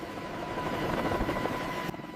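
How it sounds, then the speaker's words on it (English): Apache helicopters taxiing on a busy desert airfield, a steady rotor and engine drone that stays moderately loud and even for about two seconds, with a slight drop near the end. "Apache helicopters taxi, preparing for their next assignment"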